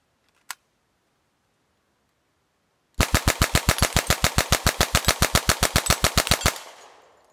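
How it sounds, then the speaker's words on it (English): Submachine gun fired at a shooting match, one sharp shot followed after a pause by a long fast burst of around thirty evenly spaced loud cracks, ending with a fading outdoor echo. "Nice shooting."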